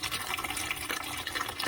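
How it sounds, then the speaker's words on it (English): Water sprays and gushes out of a central heating system pipe as a plumber manually pumps it up to 1 bar during a new installation, a continuous close hissing splatter with slight pulsing and no talking. "You can see the water flying out of there."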